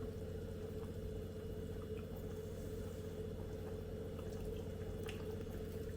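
Water at a rolling boil in a pot for masala rice gives off a faint, steady bubbling hiss that stays even throughout, with no voices.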